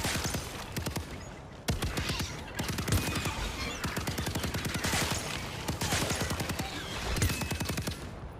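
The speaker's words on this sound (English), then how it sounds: "Gotta keep shooting them till they're dead." Rapid, sustained automatic gunfire in the VR game Starship Troopers, loud and close, dense bursts of shots hammering almost continuously with only brief pauses between volleys.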